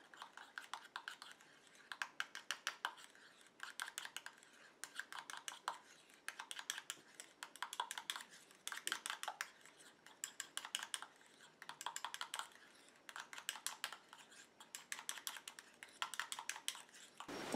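Homemade moisturizing anti-aging day cream being mixed, giving steady bursts of rapid clicking and tapping strokes, like a small whisk or spatula knocking against a container, repeating in short clustered runs throughout with no talking.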